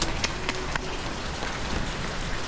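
Heavy overnight rain pouring on a small hut with a leaking window, a dense steady hiss of falling water with a few sharper drops and knocks near the start, continuous with no talking.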